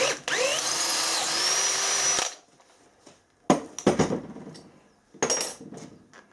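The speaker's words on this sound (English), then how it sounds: "8mm hole through here first." A power drill bores an 8mm hole through a metal handle, whining loudly and steadily for about two seconds before stopping, followed by scattered clanks and bumps of metal parts being handled.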